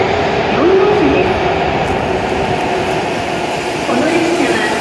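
An E7 series Hokuriku Shinkansen Hakutaka service pulling into platform 13 at Kanazawa station, a steady loud rumble with rising and falling electric motor whine, alone with no talk.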